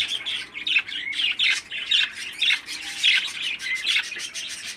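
A 13-day-old baby parakeet squawks close by in a rapid, continuous series of raspy, high-pitched cries.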